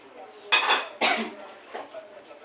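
A lid is set over a cooking pot holding rice, prawns and jackfruit in coconut milk. Two quick metallic clanks sound close by, followed by a softer clink.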